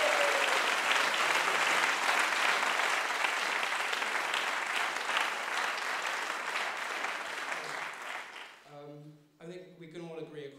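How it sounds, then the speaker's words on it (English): Audience applause after a school house singing competition, a loud dense roar of clapping that slowly fades, then gives way to someone speaking alone near the end. "So I think that deserves a massive round of applause."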